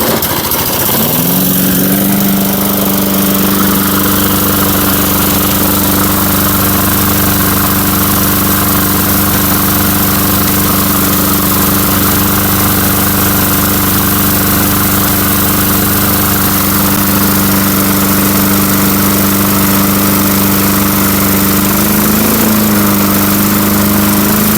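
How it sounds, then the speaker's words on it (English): A small engine, brought back to running after sitting for a few years, idles steadily with a loud, close, even drone that holds for the whole stretch, dipping and wavering briefly near the end. "I want to try idling this down a little bit here."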